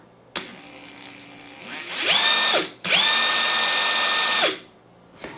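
A power tool whirs at idle before an impact driver set to mode 4 revs up in two loud, high-pitched bursts. Each burst holds for about two seconds, then winds down.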